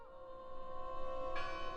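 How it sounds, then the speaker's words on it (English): A single church bell in the video game Draugen rings out in a brief, sustained tolling tone that swells and sustains over a quiet background. No one speaks. "I heard the bell."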